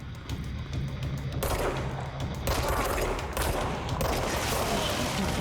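Dense automatic gunfire from the video game Control, a continuous loud fusillade of rapid overlapping shots lasting the whole stretch with no pauses.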